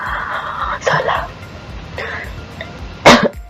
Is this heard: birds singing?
no